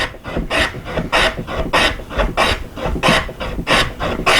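A hand plane shaves wood for a homemade smartphone mount in steady, rhythmic strokes, about eight rasping passes, each a short loud swish with brief pauses between, close by and without speech.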